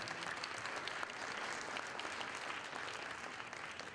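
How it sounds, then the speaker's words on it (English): An audience at a community meeting applauds, a dense, even patter of many hands clapping that holds steady and moderately distant throughout. "giving them a round of applause as well"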